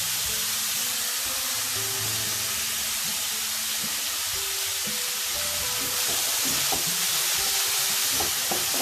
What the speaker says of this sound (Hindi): 2 मिनट सिर्फ सौते करेंगे